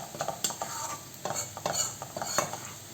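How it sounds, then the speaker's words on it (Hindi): Onions frying and browning in a pan for a sweet-and-sour tomato chutney, with irregular scraping stir strokes and soft sizzling throughout, close and moderately loud, no talking. "प्याज को ब्राउन होने तक आपने भूनना है। इसे बीच बीच में ज़रूर चलाते रहिए।"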